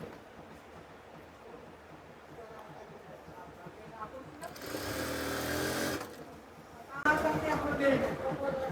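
A sewing machine stitches a zipper into the neck of a kameez. Quiet room noise is followed by two loud, fast-whirring bursts of stitching, and a voice is heard alongside.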